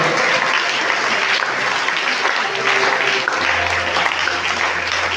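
A church congregation applauds and acclaims the Lord, dense continuous clapping from a large crowd with cheering voices mixed in, loud and sustained throughout.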